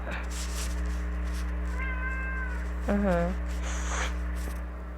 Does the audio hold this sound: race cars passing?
no